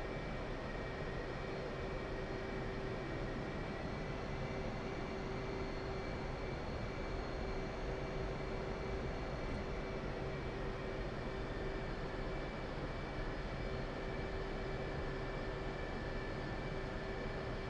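An F/A-18 Hornet jet taxiing for takeoff in the DCS World video game, a steady, unbroken engine roar with a sustained whine, heard alone at constant loudness throughout.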